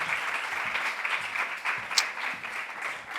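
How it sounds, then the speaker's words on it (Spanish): Applause from an audience as speakers walk onto the stage at a Pride event, a moderately quiet, even patter of many hands with a couple of sharper claps standing out. "aplauso para ellos, por favor."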